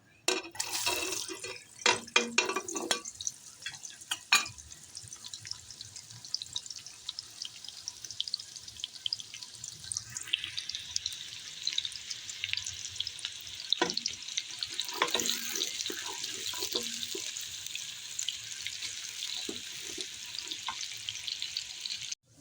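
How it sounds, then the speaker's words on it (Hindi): Sliced onions browning in hot oil for an aloo qeema curry, a steady close sizzle and crackle with occasional stirring clatter and sharp pops, no talking. "अब हम प्याज ब्राउन कर लेंगे।"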